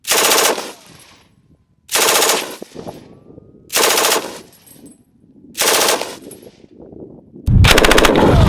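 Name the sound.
MG34 machine gun firing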